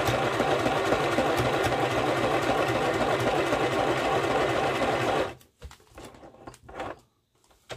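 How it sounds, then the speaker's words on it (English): A sewing machine runs in one loud continuous burst, stitching a paper pocket closed, then stops abruptly and leaves a few faint handling noises. "What I'm going to do is just close that up and sew that back down."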